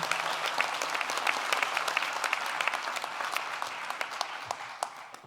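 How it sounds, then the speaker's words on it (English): Steady applause from an audience at a manufacturing talent pipeline signing day, dense clapping holding level for several seconds before thinning out at the end. "Please give them a round of applause"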